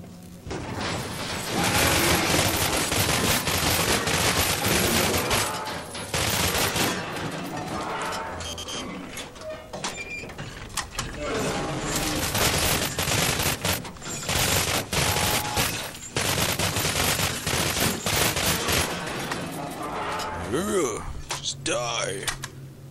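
Heavy gunfire in the video game Cryostasis, with dense, nearly continuous bursts of automatic fire and loud game noise that runs for the whole stretch, briefly easing at moments before resuming.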